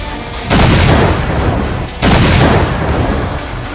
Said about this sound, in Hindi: न्यूज 24 के कैमरे पर पाकिस्तान ने मोर्टार से लाइव हमले किए